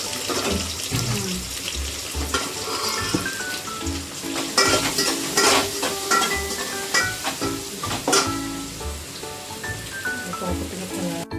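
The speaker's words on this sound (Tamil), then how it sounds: "சின்ன வெங்காயம் அதில் கொஞ்சம் உப்பு போடணும், சீக்கிரமாக வணங்கும்" Small shallots with a pinch of salt sauté in a hot pan for a fish curry, giving a steady, loud sizzle with stirring scrapes and clinks throughout, with no talk.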